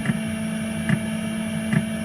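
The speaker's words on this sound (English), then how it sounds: "you can hear the fuel pump" A Planar 2kW diesel heater fuel pump in a Mercedes Sprinter ticks softly about once a second over a steady mechanical hum, close by and unaccompanied by speech.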